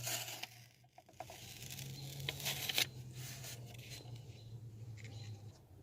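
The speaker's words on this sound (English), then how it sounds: "pull the sticker back." A sticker is slowly and delicately peeled back off the ECM of a 1993 Chevrolet S10 with a 4.3 engine, giving faint close papery scraping and crinkling with a few brief rips over a low steady hum.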